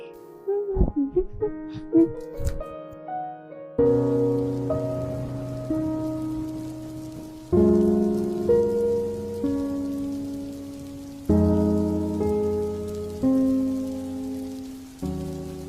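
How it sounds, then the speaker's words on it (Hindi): Heavy rain falls in a steady, soft wash, half-buried beneath louder sustained musical chords that enter in repeating blocks. "हे भगवान, इतनी तेज बारिश हो रही है, घर कैसे जाऊंगा?"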